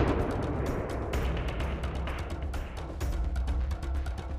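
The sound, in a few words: explosion of about 5 g sodium metal dropped in water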